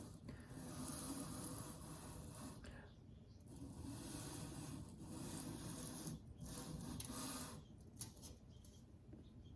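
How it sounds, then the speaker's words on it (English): Zalman CNPS20X CPU cooler base being lapped on a Starrett surface plate, a steady close scraping rub that runs in long back-and-forth strokes with brief pauses between passes. "So that's lapping."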